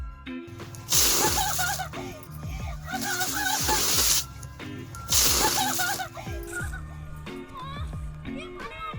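During a prank on a wife at home, a bucket of water is thrown in two heavy, loud splashes a few seconds apart, with voices talking throughout.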